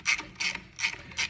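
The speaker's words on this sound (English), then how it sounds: "So all I have to do here is loosen this nut." A hand ratchet loosens the tensioner nut on a supercharger belt. It gives four short, bright bursts of rapid clicking in an even back-and-forth rhythm, close to the microphone and with no other sound around it.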